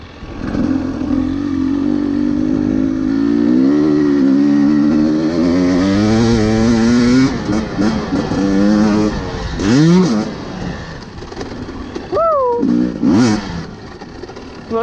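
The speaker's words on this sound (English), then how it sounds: "Little two-stroke, super fun." A Husqvarna TE250i two-stroke dirt bike engine revs loud and close, its pitch climbing and wavering through repeated throttle blips before short sharp bursts near the end.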